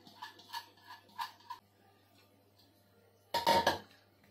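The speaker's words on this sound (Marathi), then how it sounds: "आता आपण हे डाळीतलं पाणी पण काढून टाकूया आणि ही डाळ पण टाकून घ्यायची आहे" Soaked lentils are drained and tipped into a pressure cooker already holding chopped spinach for a spicy spinach amti: a few light metallic clinks, a quiet pause, then a loud, close clattering rush of dal hitting the metal pot.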